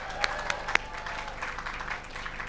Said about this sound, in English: Come on, we've got to clap for that.